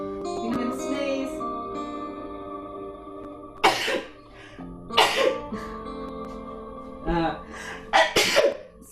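A single nearby sneeze bursts out during a stretch-and-strengthen exercise class, sharp and loud against steady background music, followed by brief coughs or throat noises and a person speaking quietly.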